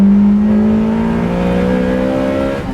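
A Toyota MR2 MK1 engine, fitted with VVTI, revs loudly and close by, its rising, steady drone holding for nearly three seconds before easing slightly.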